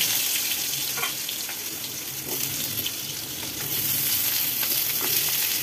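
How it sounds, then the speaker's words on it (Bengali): Pumpkin pieces fry in hot oil in a kadai for a Bengali kumror chhokka, giving a steady, close, dense sizzle with a few faint scrapes and no talking. "এবারে কুমড়োটাকে তেলের মধ্যে দিয়ে একই রকম সুন্দর সোনালি রং করে ভেজে নেব।"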